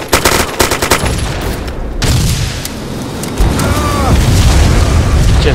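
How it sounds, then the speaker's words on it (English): Loud, close gunfire in the military shooter Arma 2, with a rapid rattling burst at first, then heavy booming reports and a dense roar of continuous fire. "What am I doing now? Shooting."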